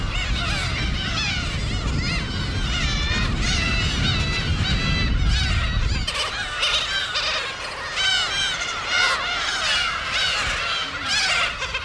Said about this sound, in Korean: 섬은 새들의 보금자리다.